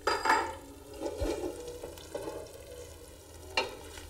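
Onions and garlic sizzle and fry in olive oil in a pot, with a steady close-up crackle broken by a few louder stirring scrapes and clanks.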